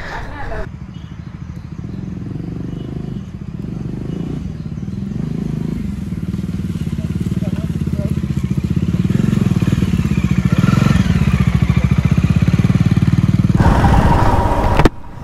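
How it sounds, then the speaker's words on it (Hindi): A Royal Enfield Himalayan or Bajaj Dominar 400 motorcycle is ridden hard toward top speed, its engine a loud, close, continuous drone that rises steadily over about fifteen seconds amid wind rush. "Now let's check the top speed of this bike."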